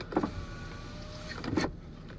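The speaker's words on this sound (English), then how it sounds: "power windows" Car power windows running: two short electric motor whirs with a thin mechanical whine between them, fairly close and clear, with no talking.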